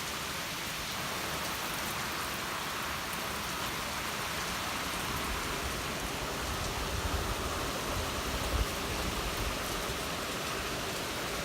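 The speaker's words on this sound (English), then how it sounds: "What are you thinking about all this rain, Bubba?" Steady, dense rain from Tropical Storm Michael falls continuously on surfaces nearby, a broad even hiss with faint drip detail throughout, no voices.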